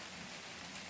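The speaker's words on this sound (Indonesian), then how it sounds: "Wow, ini hujan ya," Rain beginning to fall on a mountain hiking trail, a steady dense patter of drops on surfaces and foliage, close and continuous, with no voices.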